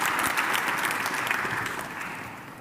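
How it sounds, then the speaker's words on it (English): A conference audience at a closing plenary gives a brief round of applause, dense steady clapping from many hands that fades slightly toward the end, with no voices over it. "Please, round of applause to the..."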